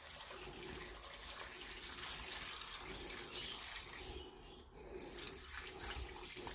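Water runs steadily from a tap into a sink, a continuous hiss that dips briefly midway before resuming.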